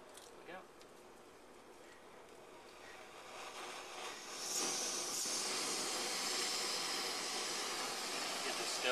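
An Esbit camping stove burning with a steady broadband hiss that swells partway through and then holds loud and even, close by, with faint sounds early on.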